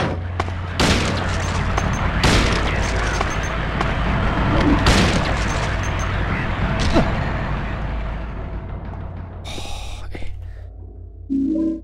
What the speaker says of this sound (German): Bin echt froh, dass die Pistole so reinhaut, dass wir mit 3 Schuss alles erlegen.